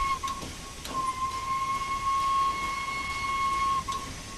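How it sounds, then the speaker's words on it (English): The Flying Scotsman steam locomotive's whistle holds a thin, steady tone for about three seconds over a low background rumble, moderately loud and without talking. "Now let's go ahead and blow the whistle"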